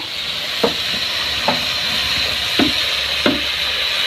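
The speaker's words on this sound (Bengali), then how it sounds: "এবার দিচ্ছে পানি মশলাটা একটু কষানোর জন্য পুড়ে যায় যদি" Spice paste fries in a pan over a wood fire during village cooking, giving a steady, bright sizzle. Four soft stirring scrapes come at irregular intervals, and no one speaks.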